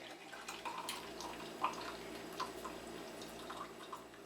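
Jamaican hot chocolate trickling and dripping into a cup, soft and continuous with small splashy drips, close up and fairly quiet.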